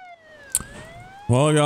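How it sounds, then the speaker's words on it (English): Ambulance sirens in the Emergency 4 video game with a Hong Kong mod wail in a clear sweeping tone with a sharp click partway, then a voice starts talking over the game audio. "Oh, here are the ambulances."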